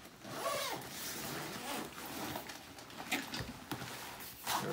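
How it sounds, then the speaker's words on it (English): A zipper being pulled open along a durable carrying bag for a Pro x XT FlexTotem TV mount, a steady rasping run of several seconds with a few sharper clicks and rustles near the end, close and fairly quiet. "So let's unzip it up and let's open it."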